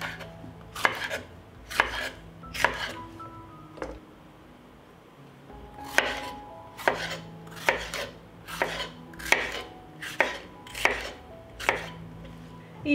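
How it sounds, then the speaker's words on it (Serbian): A cleaned bell pepper is chopped into large pieces on a board: a steady run of sharp knife knocks with a brief pause, close and fairly quiet, with no talking. "Očišćenu papriku iseći ću na krupnije komade."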